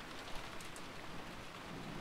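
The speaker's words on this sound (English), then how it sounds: "All that filled the room was the stir from wind and rain shaking the treetops" Wind and rain stirring treetops in a stormy night scene from the visual novel Umineko, a steady, dense wash of rainfall noise throughout with no voices.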